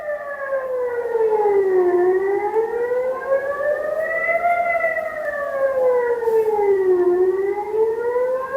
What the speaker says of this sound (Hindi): अचानक सायरन बजने लगता है।